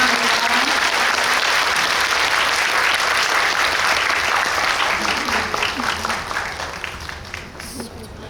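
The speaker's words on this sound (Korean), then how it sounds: "감독님께 박수 보내드리면서 오늘 마무리하겠습니다" A cinema audience at a post-screening talk applauds the director in a full, dense round of clapping that holds steady and then tapers off toward the end.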